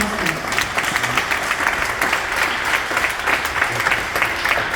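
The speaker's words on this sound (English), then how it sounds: "I need to hear some claps." Audience at a college prep scholarship awards event clapping loudly and steadily, a dense crowd applause filling the space, with a few voices mixed in.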